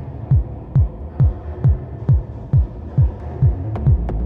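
A synthesized techno rumble built in FUMANA: a steady pulse of deep, reverberant kick-like thumps, about two per second, each decaying into a low washed-out rumble, with no voices.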